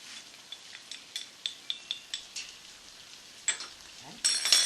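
Ground coriander, cumin and turmeric frying with onions in a pan for chicken jalfrezi, a soft steady sizzle with faint stirring taps and clinks, a louder scrape near the end.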